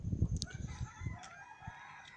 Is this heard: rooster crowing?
yes